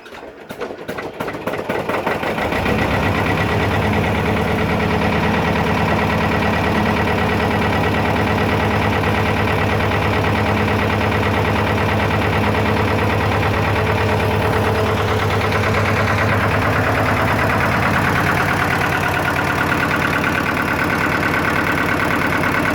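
Dumpy's engine cranks briefly with rapid ticking, then catches and settles into a steady, loud, continuous idle with a low, even rumble and a faint mechanical knock, no voices.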